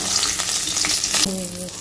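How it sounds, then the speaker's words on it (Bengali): Hilsa fish sizzling as it fries in a pan, a steady crackling hiss throughout, briefly stirred with a spatula before a faint tone near the end. "ফাইনালি মাছ ভাজা কমপ্লিট, তুলে নিই"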